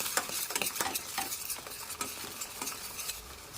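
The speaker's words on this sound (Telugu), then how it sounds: "మళ్ళీ ఒకసారి ఫ్రై చేసుకుందాం." Ground spice masala with salt, turmeric and chilli frying in a pan for a fish curry, a loud, close sizzle broken by quick, rhythmic stirring scrapes, with nobody speaking.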